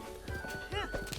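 Horse hooves clip-clopping in Zelda: Breath of the Wild, a quick close gallop rhythm broken by a short high neigh, with a voice talking over it.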